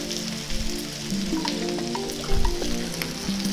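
A salted fish steak frying in a pan, with steady close crackling and sizzling and small pops throughout, no talking.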